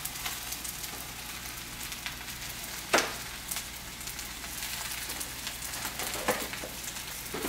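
Spinach and spring mix greens sizzling in a pan, a steady soft crackling hiss at low level with a few sharper pops and spits scattered through, no voices.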